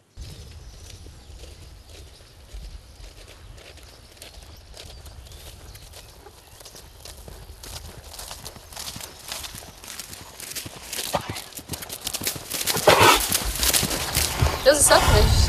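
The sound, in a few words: horse hooves clip-clopping while being ridden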